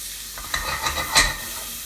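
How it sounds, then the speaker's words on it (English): Pasta ingredients cook in olive oil in a pan, a moderate steady sizzle with a few soft stirring clicks and a brief louder crackle midway; no speech. "I am going to cook in some olive oil"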